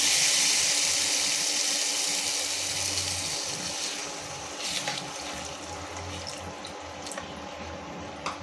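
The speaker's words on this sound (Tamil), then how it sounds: "இப்போ வந்து நம்ம தேவையான அளவு தண்ணி ஊற்றிக்கலாம்" A steady stream of water pours and splashes into a pan, continuous and close, slowly easing off in level with a few faint drips.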